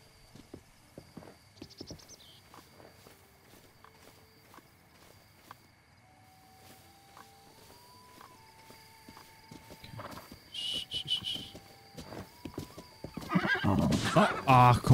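A horse in Zelda: Breath of the Wild whinnies and clops its hooves, with scattered steps growing louder and busier toward the end while someone talks over the game sounds.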